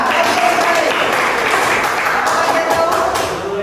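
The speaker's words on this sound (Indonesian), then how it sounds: "Tepuk tangan." Classroom applause during an Islamic religious education lesson, a group of students clapping together in a dense, lively burst that holds steady for several seconds.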